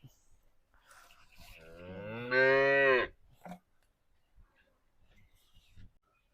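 A buffalo or calf gives one loud, drawn-out moo that rises and then cuts off, with quieter rustling and distant noise around it outdoors.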